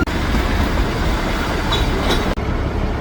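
Continuous rumble and rattle of the narrow-gauge Darjeeling toy train rolling along the tracks on a turn, close and loud, with faint wheel squeals near the end.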